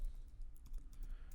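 Code being typed on a computer keyboard, a short run of soft, quick key taps at low level with no voices.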